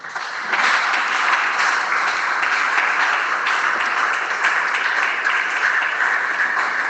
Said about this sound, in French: Applaudissez le Seigneur de gloire.